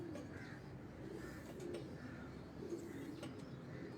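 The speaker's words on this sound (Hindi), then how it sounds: "ਇਹ ਮੋਚਾ ਸਾਹਿਬ ਵਾਲੇ ਕਬੂਤਰ ਨੇ" Pigeons in a breeding loft coo in repeated soft, low rolling phrases, several overlapping calls at a moderate distance, with faint background noise and no talking.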